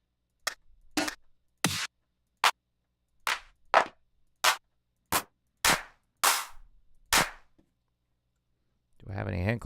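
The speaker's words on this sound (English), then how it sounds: "throw some hand claps in there" Hand clap samples auditioned one after another in Ableton Live during a pop music production session: about a dozen sharp, dry claps at irregular spacing, loud and close, followed by a burst of other sound at the very end.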